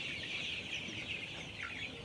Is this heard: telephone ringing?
no